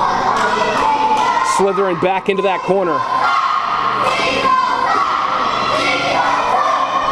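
Wrestling crowd at the Battlezone arena chanting "TJ" for Tornado Jones, a steady dense roar of many voices filling the hall while a commentator talks over it.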